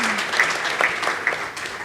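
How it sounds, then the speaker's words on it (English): Conference attendees at a youth pre-conference applaud a panel that includes a health minister, steady moderate clapping in a large hall with a faint voice briefly audible beneath it. "please give a warm round of applause again to Honorable Minister Dr. Sabin Nsanzimana, Honorable Rosemary"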